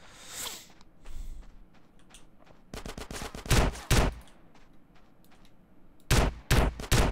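Shotgun blasts in GTA San Andreas, several sharp loud reports in quick clusters with short gaps between them, alone without talk.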